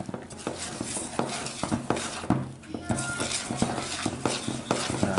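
A whisk clatters briskly against a bowl as flour, egg and milk batter is beaten, giving a steady run of quick metallic clinks and scrapes that continues throughout.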